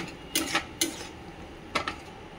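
A spoon stirs a yogurt-and-spice mixture in a cooking pot, making a few sharp metallic clinks and scrapes against a faint quiet background.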